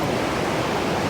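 Aharbal waterfall in Kashmir roars as a dense, steady wash of rushing water with no break or voice, loud and close throughout.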